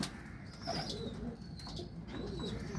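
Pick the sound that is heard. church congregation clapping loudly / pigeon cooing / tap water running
pigeon cooing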